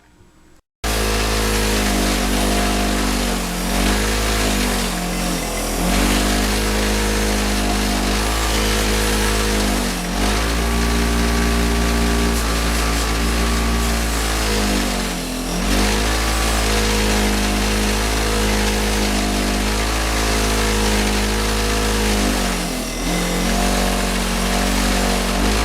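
A power-driven wire wheel grinds rust off the muffler of a 37-year-old Suzuki GS1100E motorcycle, a loud continuous whine that dips in pitch each time the brush bears down on the metal, heard close and alone.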